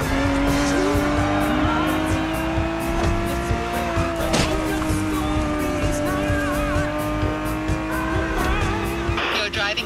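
A Ferrari 365 GTB4 races in The Crew Motorfest video game, its engine roaring loud and steady throughout, with repeated tire squeals and rising and falling revs.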